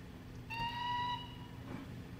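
A faint multi-tone horn sounds briefly over a low rumble as a train pulls into a station in Transport Fever 2, followed by soft ambient hum.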